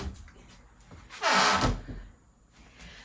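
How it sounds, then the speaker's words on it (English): A squeaky interior door in a small under-stairs room swings open and shut, a brief creaking sweep followed by a soft thump, with quiet room tone around it. "The doors are done. A little squeaky on that one."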